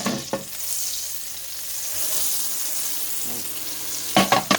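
Rabbit pieces browning in olive oil and butter in a pan, an even hissing sizzle close by with a few spatula knocks and scrapes at the start and a quick cluster near the end, no talking.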